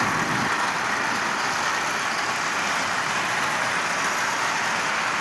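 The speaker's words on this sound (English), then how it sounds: "So an old Marx 490 shell, that pre-war motor, it gives you a running locomotive, as you see." Pre-war Marx toy train motor fitted under an old Marx 490 locomotive shell, running steadily as a constant whirring, buzzing drone throughout, close and fairly loud with no talk.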